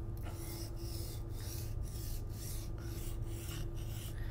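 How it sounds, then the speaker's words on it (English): A boning knife blade is laid flat and worked up and down on a sharpening stone, giving a steady rhythmic rasp of repeated strokes, close and fairly quiet, over a constant low hum. "completely lay the knife flat on your stone and work up and down"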